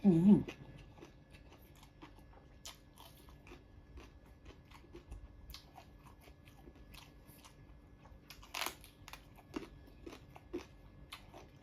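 Crunchy bites and chewing of boiled golden apple snails seasoned with lemongrass, eaten with yellow eggplant and fresh vegetables, sounding close and intermittent with a louder burst of crunches near the end and soft murmurs between.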